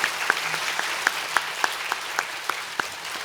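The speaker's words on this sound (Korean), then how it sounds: "우리 박병선 장로님께 다시 한번 감사의 박수 드리겠습니다" Applause fills a church sanctuary during a Wednesday midday service, a steady wash of many hands clapping with regular sharper claps standing out, carrying on without pause for a few seconds.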